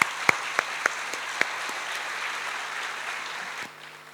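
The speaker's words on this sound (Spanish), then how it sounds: "fuerte aplauso para ella" Audience applause for a speaker at a talk, a steady wash of clapping with a few sharp distinct claps near the start, cutting off suddenly near the end.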